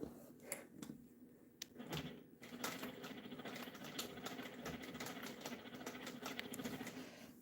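A home sewing machine stitches a seam at an angle in quiet bursts of rapid mechanical ticking, with short pauses between runs and a few handling clicks.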